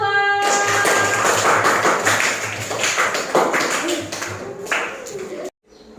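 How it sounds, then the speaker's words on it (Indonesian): A group of students applauding in a classroom after a presentation, dense overlapping clapping that runs loud for about five seconds before stopping abruptly, with voices mixed in. "Tepuk tangan untuk kelompok 2."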